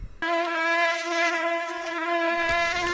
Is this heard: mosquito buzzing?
yes